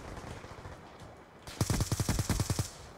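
A rapid string of about ten close, punchy gunshots from a shotgun in a first-person shooter, fired in quick succession after a quieter lead-in.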